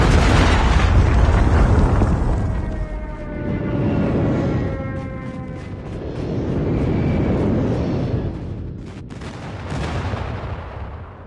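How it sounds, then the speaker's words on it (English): In Call of Duty Mobile zombies, an airstrike and predator missiles hit in loud, booming explosions. A jet roars overhead with a sweeping engine whine, and heavy blasts swell and fade in several waves. "Friendly airstrike incoming. Predator missile inbound."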